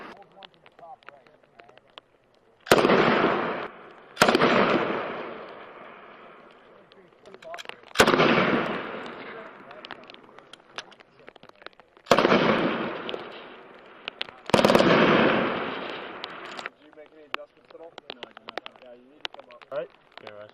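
An M249 or M240 machine gun fires five short bursts at a range, each a loud sharp blast with a decaying echo, separated by gaps of a few seconds, with faint talk in between.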